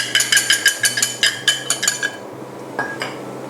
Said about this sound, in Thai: ใช้ตะกร้อมือนะคะ คนส่วนผสมให้เท่ากันดีซะก่อน